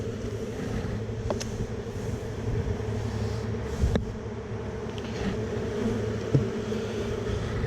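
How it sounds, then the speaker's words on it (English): Honey bees swarming around an open hive during a hive split, a dense steady buzz holding throughout at close range, with a few brief knocks and handling sounds over it. "Look at all those bees."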